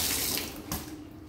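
Water runs from a kitchen tap while ginger tea is being prepared: a brief, close, steady rushing splash with no voices.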